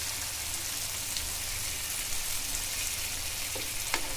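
Tandoori chicken roasting in an open pan with no lid, giving a steady, dense sizzle and crackle like light rain, close and continuous with a couple of sharper pops near the end.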